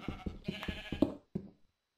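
Several short, quavering sheep bleats repeat in quick succession from a video game, soft and fairly close, then trail off into quiet.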